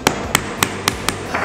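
A steel hammer taps a wooden architrave into place with five sharp, evenly spaced knocks, each loud and close, with no talking.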